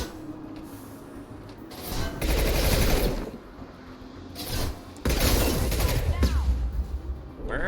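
Enemy gunfire in the video game Mass Effect 2: rapid bursts of automatic shots in two loud volleys, with quieter scattered fire and rumble between them.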